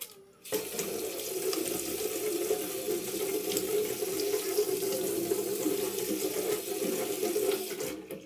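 Tap water runs steadily into a sink while hands are washed during a clinical vital-signs routine, a continuous close rush of flow starting after a brief pause and lasting several seconds without talk.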